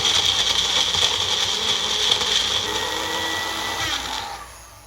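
A bullet blender runs steadily, loud and close, as it purees a whole orange, its motor whine holding for several seconds before winding down at the end.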